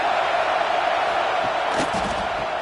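Stadium crowd at a football game roaring in a broad, steady wash of cheering and noise, with a brief swell of louder shouts partway through.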